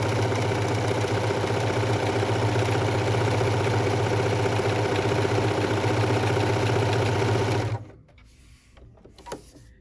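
A sewing machine runs a satin stitch through fabric and batting using an open-toe walking foot, making a loud steady mechanical hum with fast rhythmic needle chatter for about eight seconds before stopping, followed by a few faint handling sounds.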